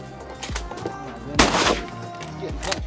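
A shotgun blast rings out during an early-season wood duck hunt from a large blind, one loud sharp shot with a rolling decay, amid quieter clicks and bumps.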